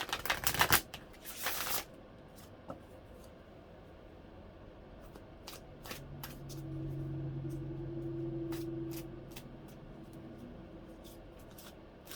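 Oracle cards riffle quickly in a couple of brisk bursts up close, then a quiet room hum with a few soft taps follows.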